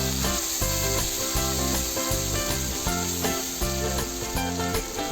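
Quail being stirred with garlic paste and a little water in a hot pan, rhythmic rubbing and scraping strokes repeating about once a second over a steady sizzle, close and loud.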